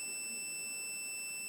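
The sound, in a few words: alarm device buzzer beeping when disconnected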